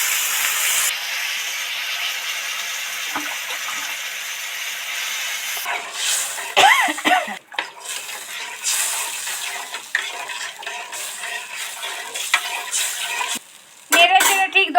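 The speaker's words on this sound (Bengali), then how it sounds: "মশলা তো ভাজা ভাজা হয়ে গেছে তেল ছেড়ে গেছে এবার অল্প পরিমাণে জল দিয়ে দেবো" Water goes into fried masala in a pan for a thin catla fish curry. A soft, even hiss turns into bursts of sputtering, bubbling sizzle and steam with some stirring clatter.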